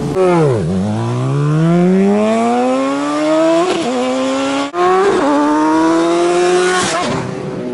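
A 600cc sport motorcycle accelerates hard, its engine climbing in pitch through the gears with two sharp shift breaks, loud and close throughout.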